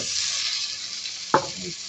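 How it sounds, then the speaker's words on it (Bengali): Onion frying with ginger and garlic gives a steady close sizzle as it is stirred around the pan, with one sharper scraping stir near the end. "এবার আদা রসুন দিলাম। এবার নাড়াচাড়া করবো সবগুলা।"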